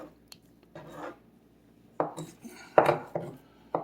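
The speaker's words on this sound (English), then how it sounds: "we're going to cut a little of this top fat off" A knife trims fat from a strip loin steak on a board, making several short, sharp cutting and knocking sounds in uneven bursts close up, separated by brief quiet gaps.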